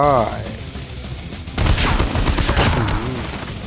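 Rapid bursts of Call of Duty Mobile free-for-all gunfire erupt and continue loudly under a voice talking, with a brief clatter of shots near the start.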